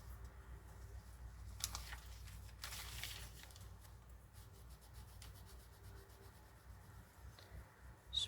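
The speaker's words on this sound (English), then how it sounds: "just rub it off." Fingers rubbing excess glue off a junk journal page: soft, close, quiet scuffing strokes in short bursts over a faint low background hum.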